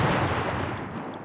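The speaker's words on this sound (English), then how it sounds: "Oh, you shooting me with a pistol?" Pistol gunshots in the battle royale game Cuisine Royale, a loud burst of sharp reports with a booming tail that fades over about a second, with no speech.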